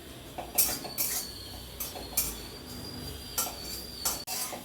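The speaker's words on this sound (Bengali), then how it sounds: "সবার প্রথমে কড়াই গরম করে নিয়ে দিয়ে দিচ্ছি তিলটা একটু লাল করে ভেজে নেন।" White sesame seeds dry-roasting in a heated wok give off soft, repeated ticking clinks and light metallic taps at an irregular rhythm, close and fairly quiet.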